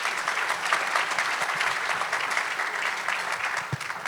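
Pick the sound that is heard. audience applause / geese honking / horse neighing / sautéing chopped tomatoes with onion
audience applause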